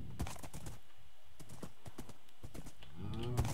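Horse hooves clop along in Minecraft, a quick irregular run of close, dry taps with a short whoosh of movement near the end.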